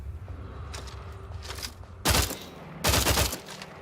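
Two loud, broadband bursts of gunfire from a steampunk double-round rifle in The Outer Worlds 2, each lasting about half a second, over a low rumbling game ambience with fainter bursts earlier.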